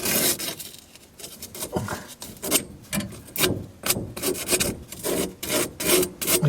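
Sand cloth wrapped around a copper water line rubs back and forth in quick rhythmic rasping strokes, close and steady, with no voices over it.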